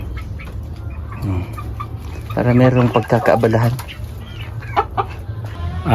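Chickens cluck and squawk close by, with a burst of louder clucking in the middle, while a person talks over them.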